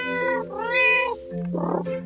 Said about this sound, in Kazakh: Сөйлеудің орнына мияулайды.